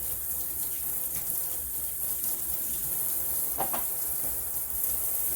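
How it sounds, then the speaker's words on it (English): A tap runs steadily while a knife and plate are washed under it. The water makes a constant, fairly quiet hiss, with a faint clink partway through and no voices. "Now washing everything."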